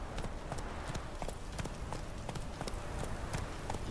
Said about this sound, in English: You're so demanding of that horse, Geralt.